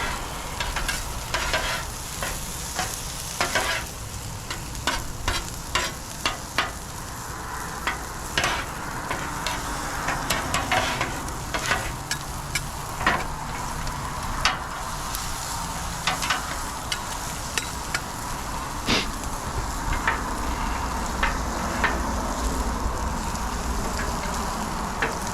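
Hash browns and omelet egg fry on a Blackstone griddle with a steady loud sizzle, overlaid by frequent scraping clicks of a spatula stirring throughout.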